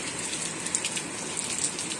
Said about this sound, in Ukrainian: Подивіться, в нас дощ.